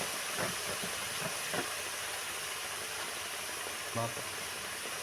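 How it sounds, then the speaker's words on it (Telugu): Grated coconut frying in a pan for a mutton paya curry gives a steady, close hiss of sizzling with a few soft stirring knocks. "కొబ్బరి వద్ద వేసుకున్నాం కదండి ఇప్పుడు అది కూడా పచ్చి వాసన పోయేంత వరకు బాగా వేంపుకోవాలండి"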